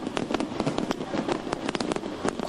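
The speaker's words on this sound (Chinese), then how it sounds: "跨年烟火炫目灿烂" New Year's Eve fireworks over a large shopping mall in Kaohsiung, a dense, continuous crackle of bursts and pops with no voices.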